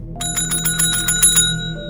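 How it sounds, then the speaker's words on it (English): A small table bell rings rapidly about a dozen times in a quick metallic series, bright and close, then its tone lingers briefly. "After ringing the table bell for almost a minute"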